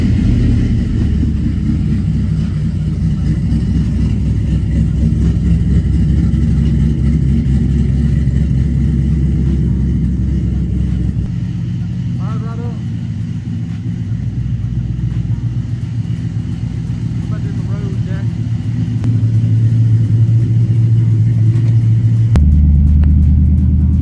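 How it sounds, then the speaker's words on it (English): An LS V8 engine swap in a car fires from a cold start after sitting overnight and settles into a steady idle, a loud, continuous low rumble close by with slight shifts in pitch and a few faint background clicks. "So this is a cold start."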